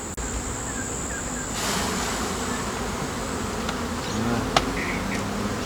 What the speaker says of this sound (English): Well, I'm going to put the rest of these bees in there.